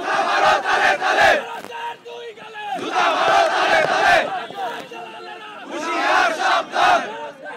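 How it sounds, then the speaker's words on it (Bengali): A protest march of college students and teachers in Dhaka, the crowd loudly chanting religious and political slogans in rhythmic bursts of massed voices, rising and falling in repeated waves close by. "বিক্ষোভ মিছিলে দ্বীন ইসলাম জিন্দাবাদ, নারায়ে তাকবীর, আল্লাহু আকবার সহ বিভিন্ন ভারত বিরোধী স্লোগান দেন।"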